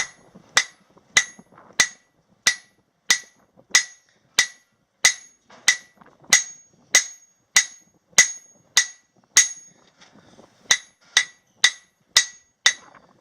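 A hammer repeatedly strikes a small forged steel leaf keychain on an anvil, sharp ringing blows in a steady rhythm of about one and a half per second, close and clear with no talking.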